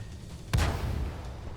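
A Sherman Grizzly I tank cannon in World of Tanks fires premium ammo, producing a single loud, sharp boom with a rumbling tail after a quiet moment.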